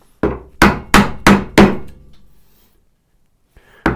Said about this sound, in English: Apparently I had one more joint to clean out. So, chopping this one down.